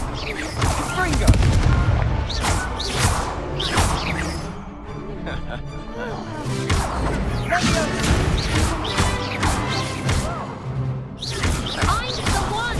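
Fiery spell blasts burst repeatedly in a magic battle in Hogwarts Legacy, loud booming crashes and whooshes recurring every second or two amid chaotic combat noise, with shouted incantations in between.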